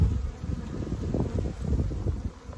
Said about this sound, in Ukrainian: І зараз ще заходить бджола, шукаємо живу матку.